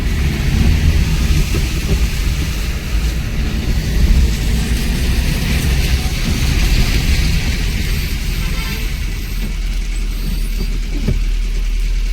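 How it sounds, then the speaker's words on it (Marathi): Heavy rain pours down in Shirdi, a loud, dense and continuous broadband hiss with a deep rumbling undertone that holds steady throughout. "पाऊस खूप जोरात चालू आहे आपल्या शिर्डीमध्ये"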